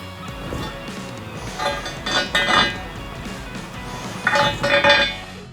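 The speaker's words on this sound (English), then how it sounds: "you're going to insert them into the holes here provided on the steps" Metal bolts clink as they are pushed into holes on a Rough Country SR2 truck side step, several light metallic taps and rattles close by, clustered in two short bursts.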